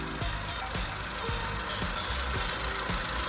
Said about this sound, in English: Sounds like a tractor, this thing.